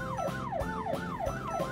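A police car siren wails in a fast, repeating up-and-down yelp, steady and fairly loud with no voices over it.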